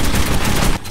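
Rapid automatic gunfire in the video game Metro 2033 Redux, dense, loud bursts of shots packed into a single second before a brief drop-off.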